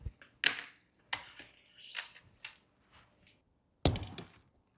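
An e-bike hydraulic brake line is cut just ahead of the caliper, giving a few short, sharp clicks and snips close by with quiet pauses between them and no talking.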